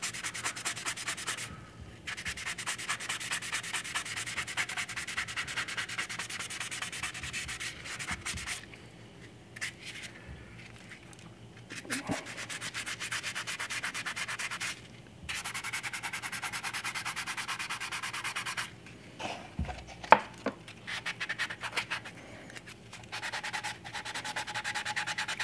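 Hand sanding of filler putty on a vinyl figure kit, a close, continuous scratchy rubbing in repeated strokes with brief pauses, no voices.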